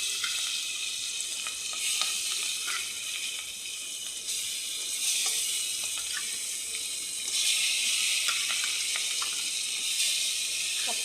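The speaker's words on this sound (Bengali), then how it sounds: "এই যে তেল গরম হয়ে গেছে, আর এবার দিয়ে দেবো মাছ ভাজা" Raw fish frying in hot oil, giving a loud, steady crackling sizzle with bursts of spitting pops that swell and ease in waves throughout, close by and without voices.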